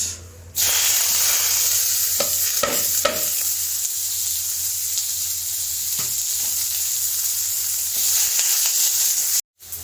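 Onions fry in a pan for a dhaba-style paneer pepper masala, a loud, steady hissing sizzle that runs for several seconds with occasional utensil taps, before cutting off abruptly near the end.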